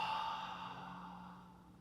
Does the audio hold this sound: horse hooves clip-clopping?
no